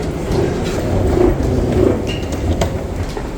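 An underground metro train in Istanbul rumbles deep and loud, with a continuous low roar that swells and eases and a few brief higher clanks or squeals partway through.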